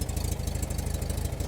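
A rebuilt air-cooled 1956 Porsche 356A engine, revived after decades of sitting, idles steadily up close with an even, throbbing low rumble that holds a constant loud level throughout.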